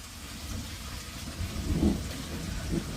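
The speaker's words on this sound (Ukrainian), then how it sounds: "О, у нас гримить." Low thunder rumbles and swells amid steady rain, with a broad roll building toward the middle and a smaller one near the end, fairly distant and continuous.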